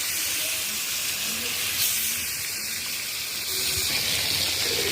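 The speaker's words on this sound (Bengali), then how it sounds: "এখন মাছগুলো ভাজতে দিয়ে দেবো" A steady, loud hiss and sizzle of rohu fish frying in hot oil in a large wok fills the scene continuously, with faint voices underneath.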